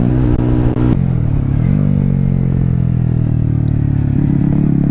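A motorcycle back in use after a long lay-up runs steadily close by, its engine humming and rising briefly in revs before settling into an even drone.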